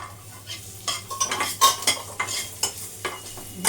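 A few cashews fry lightly in butter in a pan, giving a gentle sizzle broken by quick, repeated clinks and scrapes of a stirring utensil.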